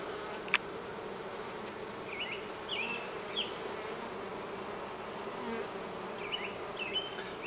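Honeybees buzz steadily around an open hive in late July while a beekeeper stacks supers, a continuous droning hum with a few louder passes of bees flying close by.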